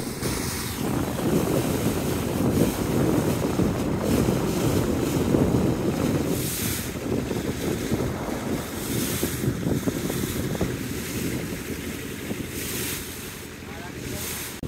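Wind roars across open water in a stormy Bay of Bengal while a fishing trawler's engine drones underneath, waves slapping and the hull rocking through continuous, blustery noise.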